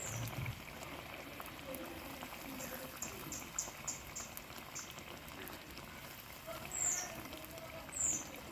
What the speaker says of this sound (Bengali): আর একটু ফুটো, তারপরে আমি এটাকে নামিয়ে নেবো।